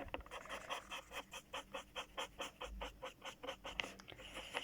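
Marker strokes scribbling rapidly back and forth on paper while coloring in purple and pink, a quiet rhythmic scratching of about twenty quick strokes, close and alone.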